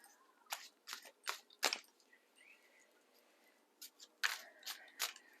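Tarot cards are shuffled by hand during a card reading, with a run of quick crisp riffling bursts and slaps that come in two clusters separated by a short quiet pause, close and fairly soft.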